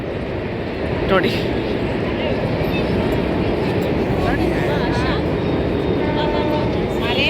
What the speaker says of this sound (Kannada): ಟ್ರೈನು ತಿರ್ಗಾ ಇನ್ನೊಂದು ಟ್ರೈನ್ ಬರ್ತಾ ಇದೆ